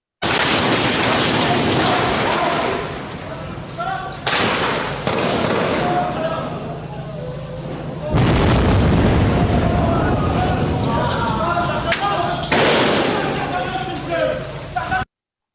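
Recorded explosions play back as heavy booms with rumbling, crackling aftermath, several loud bursts around a steady noisy background that sounds like a real urban conflict scene.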